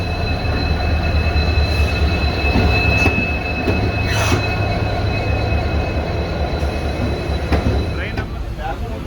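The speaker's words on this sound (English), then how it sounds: "So now we got into the train." A passenger train rolls along after leaving Dhudhsagar during a monsoon trek, with a steady rumble, wheel squeal and occasional clanks heard from inside a carriage.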